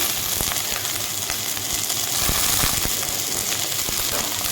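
Steady, loud sizzling of chopped carrots frying with spices in a hot pan for veg chowmein, with occasional crackles and pops throughout and no voices.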